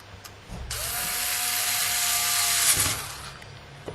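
An electric screwdriver drives screws into a PS2 hard drive case, a steady whirring buzz that runs for about two and a half seconds at close range, framed by quiet handling clicks.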